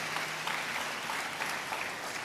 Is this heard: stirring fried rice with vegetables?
no